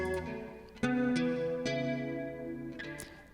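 A recorded track run through an ensemble chorus effect, with sustained chords and a shimmering, thickened tone, sharp attacks landing at a few points, fairly quiet overall and without speech.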